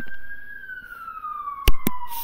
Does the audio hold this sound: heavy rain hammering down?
no